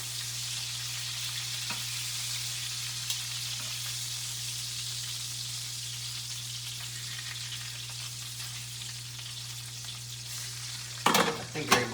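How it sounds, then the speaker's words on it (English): Bacon frying in a pan, a continuous moderate crackling sizzle with a low steady hum beneath it, ending in a few sharp clatters as the pan or strips are handled. "I'm gonna check this bacon before I end up with more charcoal bacon."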